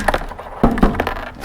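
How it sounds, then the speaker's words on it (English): Metal washers being dumped out while fitting a rear diffuser to a Challenger, a few sharp clattering clinks close by. "let's dump the washers out"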